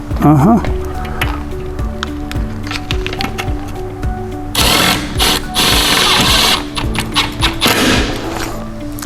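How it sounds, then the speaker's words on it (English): An impact gun drives screws into a gable fan during an attic installation, with a rattling, hammering burst of several seconds in the second half after quieter knocks and faint voices. "he heard just a little bit of impact from the impact gun"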